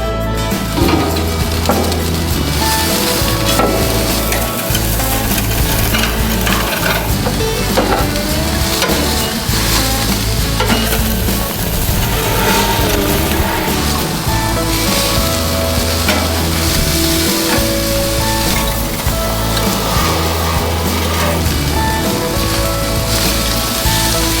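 Food sizzling on a grill, a dense, loud, continuous crackle with a rain-like hiss that never lets up, heard close with no voices over it.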